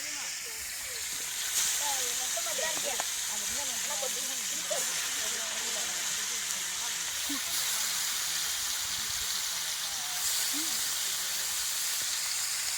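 Theli fish, a river catch, frying in hot oil with a steady loud sizzling hiss throughout, while a voice talks over it.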